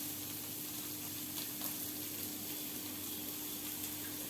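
About a tablespoon of ghee heats in a kadhai on the stove, producing a steady, even sizzling hiss that carries on unbroken.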